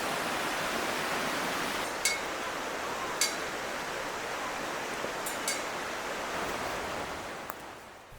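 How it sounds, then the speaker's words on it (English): A forest creek flowing beside a shaded trail near Toketee Falls in Oregon, a steady, close broadband rush of water filling the whole stretch, with a few faint clinks and no talk. "That's the creek right beside us here."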